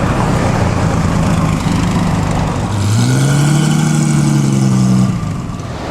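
A loud Lamborghini Spider sports car engine roars nearby at a concours, revving up with a rising then falling pitch as it passes, over a continuous rumble.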